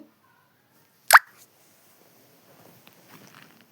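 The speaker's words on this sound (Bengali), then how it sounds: "বেটে রাখা আদা বাটাটা দিয়ে দেব পেঁয়াজের সাথে, দিয়ে একটু ভালোভাবে ভেজে নেব" Ginger paste lands among frying onions with a single soft, wet plop, followed by near silence and a few faint low rustles.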